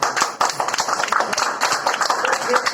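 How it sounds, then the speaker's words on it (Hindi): An audience at a gathering claps together, a dense patter of hands at close range with a brief lull near the start, while voices are heard beneath the clapping. "एक बार फिर से ताली बजा"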